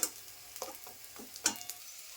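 Fish roe fritters frying in a little oil give a quiet, steady sizzle with a few soft clicks and stirring scrapes, close by and with no voices.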